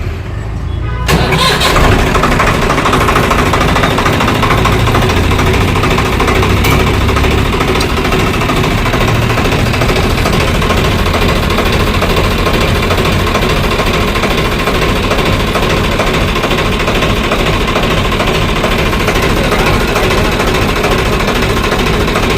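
A motorbike engine kicks into life after a brief pause and then runs steadily at close range, a loud, continuous, rough mechanical idle that lasts through the rest of the clip with no talking.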